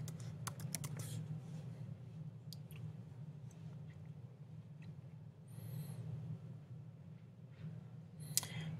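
Quiet clicking of computer keyboard keys, a quick burst of typing at the start followed by scattered single key taps over a steady low hum.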